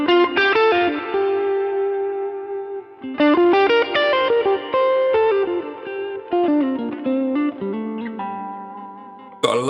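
Electric guitar through a mid-gain, Dumble-style amp tone with full reverb, playing loud, sustained chords and melodic phrases with a bold midrange, a brief pause near three seconds, then more ringing notes.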